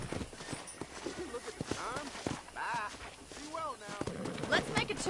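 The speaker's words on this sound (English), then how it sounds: "I picked out a fine horse for you." Horse hooves on a ranch in Red Dead Redemption, clip-clopping steadily at a walk under an ongoing conversation, with the hoofbeats fairly close and clear between voices.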